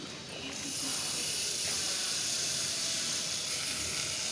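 Butter sizzling in a hot pan while vegetables cook, a steady close hiss that builds after the first half-second and holds loud and even throughout.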